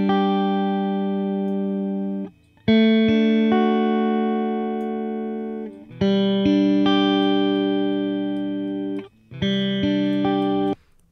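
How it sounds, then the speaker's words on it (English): Sustained distorted electric guitar chords through an amp simulation, each ringing out for a few seconds before the next strum, loud with no voices. "So the first thing I did was throw on an amp sim."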